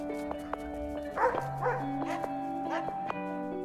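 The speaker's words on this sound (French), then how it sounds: "Les patous, grands chiens de berger blancs qui font partie du troupeau" Large white patou livestock guardian sheepdogs barking in a pastoral mountain setting, several loud bursts spaced across the clip, heard over a steady tonal background with some voice-like sound present.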